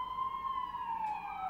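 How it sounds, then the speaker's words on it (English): An ambulance siren passes outside as a steady, moderately loud wailing tone that drifts slowly downward in pitch, heard alone without talk. "There's an ambulance here."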